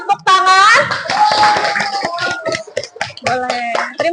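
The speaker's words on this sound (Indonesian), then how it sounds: "Boleh kasih tepuk tangan?" A class claps for a group that has just finished presenting, with scattered hand claps mixed with voices talking over them.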